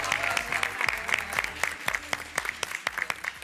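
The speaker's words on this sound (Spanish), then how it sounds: "Démosle un fuerte aplauso." An audience at the grand final of an awards contest claps for a contestant, with brisk uneven clapping from a small crowd, close and lively, lasting a few seconds.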